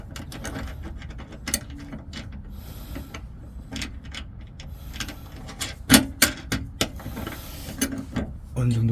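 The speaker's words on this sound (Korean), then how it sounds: "풀림 방지 너트이기 때문에 이 힘으로는 안 들어가서 반드시 스패너나 복스를 통해서 조여줍니다." A socket wrench ratchet tightens an anti-loosening lock nut on an M10 bolt for a rear seatback bracket on a Kia Bongo 3 double cab, giving bursts of close, sharp clicking with irregular rhythm and some handling noise.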